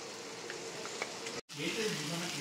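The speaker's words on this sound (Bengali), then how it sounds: "পেঁয়াজটা ভেজে দিয়েছি আর লঙ্কা দিয়েছি" Onion and chilli frying in a pan, a steady close sizzle with light stirring scrapes and a brief cut midway.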